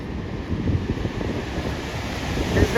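Strong river current in Niti Valley rushing past at a steady, loud roar, broadband and continuous with gusty swells, no voices over it.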